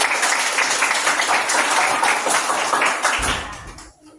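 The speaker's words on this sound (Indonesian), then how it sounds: "Ya, tepuk tangan buat Ibu nak." A class of children applauds together, steady dense clapping at close range that stops at the end.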